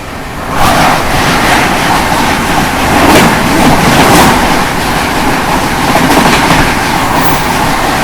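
A Marathwada Sampark Kranti Express passenger train runs at speed with a steady, loud rumble and rhythmic clattering of wheels over rail joints, heard from on board a 2nd AC coach, continuous with no talking.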